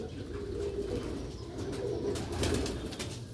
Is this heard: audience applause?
no